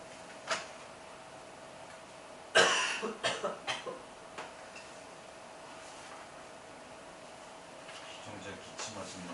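A cough bursts out in a quiet classroom, a sharp loud hack followed by a short run of smaller coughs, heard alone over faint room noise.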